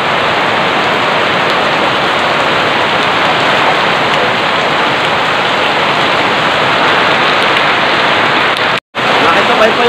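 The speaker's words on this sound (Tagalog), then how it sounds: "Nabot kami ng ulan." Heavy rain pours down steadily on a rider of a Honda Alpha 125 motorcycle, in a dense, continuous hiss, loud and close, with a brief dropout near the end.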